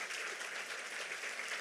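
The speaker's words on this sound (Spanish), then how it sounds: "Tremendo aplauso." A panel audience claps together, a soft, continuous patter of many hands heard from some distance, brief and steady without speech.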